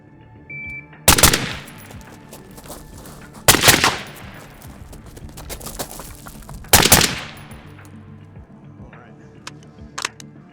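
A carry handle AR-15 rifle fires three loud sharp shots on a shooting drill, each about three seconds apart, with quiet ambience in between.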